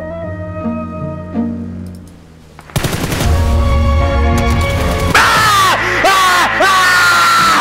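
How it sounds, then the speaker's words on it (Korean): Rapid bursts of gunfire in PUBG on the Vikendi map crackle loudly amid busy game sounds, followed by sharp metallic effects; no one speaks. "총소리 들었어 총소리"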